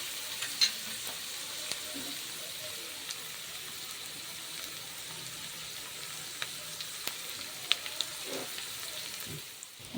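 Onions frying in oil and turned with a ladle, a soft continuous sizzle with scattered small pops and clicks of stirring, fairly faint and close, without talk.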